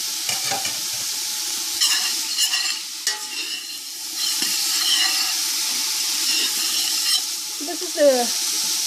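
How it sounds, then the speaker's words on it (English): Chopped celery, carrot and onion sizzle in a pot as a spoon stirs and scrapes through them, a steady loud frying hiss with repeated scraping strokes up close. "So now, I'm going to stir this."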